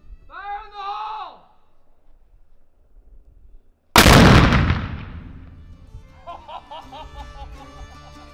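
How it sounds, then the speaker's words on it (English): A small working cannon at Fort Gaines fires a blank with one loud, booming blast that rolls away, after a shouted voice, with people cheering afterwards. "it's on the smaller side and it shoots a blank"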